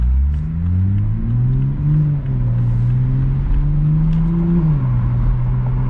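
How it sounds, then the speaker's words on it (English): A 2021 Toyota Supra fitted with a JB4 tune accelerates onto a highway, its engine droning steadily and climbing in pitch through successive gear pulls, heard from inside the cabin with a constant low road rumble. "So we're going to do a little pull, another roll form. Pulling onto the highway here in auto mode."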